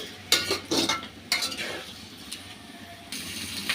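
Chopped onions fry in a pan for chili-style hilsa fish while a utensil stirs them, making a few sharp scraping clinks over a low, steady sizzle, close and fairly quiet.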